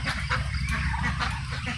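Eight ducklings quack and peep continuously, close by and fairly loud, with overlapping calls.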